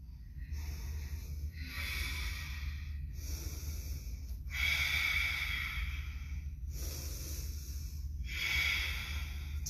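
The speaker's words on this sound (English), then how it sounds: "Take one more breath in." Deep, steady breathing during a yoga power flow class: slow, hissing inhales and exhales alternate in a regular rhythm, close to the microphone, with no talking.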